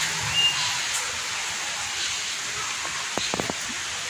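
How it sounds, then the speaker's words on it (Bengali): Steady hiss of rain falling on surfaces, with a few sharper drips or taps toward the end; no talking. "প্রচুর বৃষ্টি হলো"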